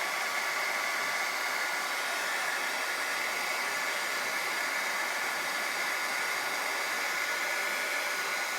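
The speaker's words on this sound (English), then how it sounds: "And then we're going to use our heat tool" A crafting heat tool blows steadily to melt embossing powder on a watercolor card, giving a continuous loud, even, hissing whoosh with no pauses.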